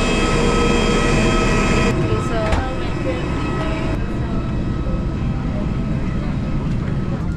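Inside a passenger airplane cabin in flight, a loud steady jet engine roar and broadband rushing hum fill the space continuously, with a few soft clicks and a voice talking over it.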